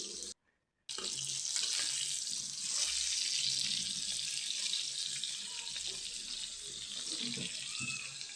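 Water that was used to rinse out a spice mixture is poured into a pan over lightly fried spiced chicken, giving a steady, close, faint rushing pour that runs without a break.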